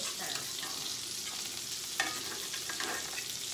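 Hamburger steaks sizzle steadily in a skillet, a continuous bright frying hiss with a few louder pops and crackles, close by and with no talking.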